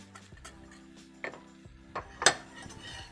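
A whisk works flour, salt and mustard powder into melted butter in a pan, giving quiet irregular metallic clinks and scrapes with a couple of sharper taps, no voices.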